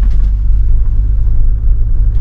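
A Mahindra Scorpio N automatic drives off-road on a hill road toward Solang, its engine and tyres making a heavy, loud, steady low rumble heard from inside the cabin, with no talk.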